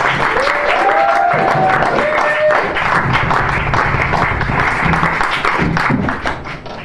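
Sustained applause from a crowd, dense clapping throughout with a few whistles early on, fading slightly at the end.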